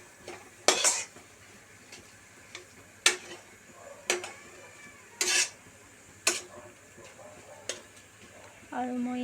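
A spoon stirs a paneer mixture in a cooking pan after water has been added, producing sharp, separate metallic scrapes and clinks at irregular intervals over a quiet background.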